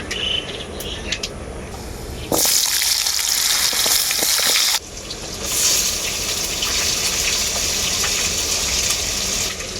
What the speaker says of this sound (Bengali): আলুটাকে আমি খুব ভালো করে ভেজে নেব